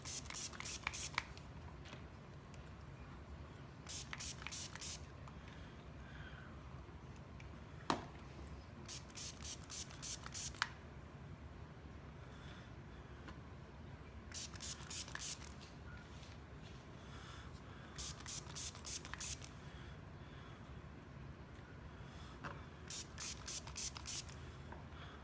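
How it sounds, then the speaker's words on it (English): A spray bottle of alcohol is pumped over a melt-and-pour soap mold and its embeds in short quick bursts of hissing spritzes, repeated in several groups, fairly close and quiet with a soft background hum. "give the mold a spray and spray all the embeds"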